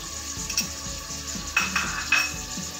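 Ajwain carom seeds frying in hot oil, a quiet steady sizzle broken by a few soft spoon scrapes and taps against the pan, close and without talk.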